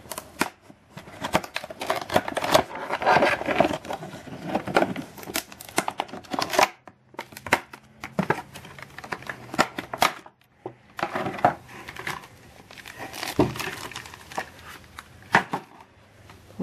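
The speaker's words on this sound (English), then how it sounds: "Wrestling with her packaging." Crinkly plastic packaging from a PriPara Nendoroid figure being handled and torn open, with close, irregular rustles and snaps that come in bursts separated by short pauses.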